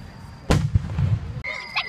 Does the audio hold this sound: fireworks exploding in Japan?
yes